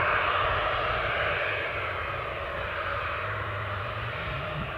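An Air France Embraer jet at Newcastle Airport gives a steady, moderately loud engine roar with a low rumble and a smooth hiss, easing slightly after the first second.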